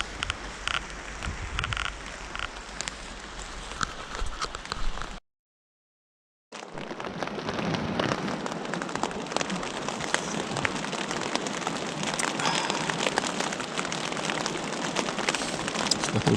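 Steady rain pattering and wind gusting around a campsite on Salt Spring in March. The sound is a dense, continuous wash that cuts out briefly partway through, then returns just as strong.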